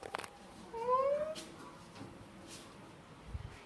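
A domestic cat lets out a single soft, rising meow at middling distance, brief and fairly faint, over quiet room noise with a few small knocks.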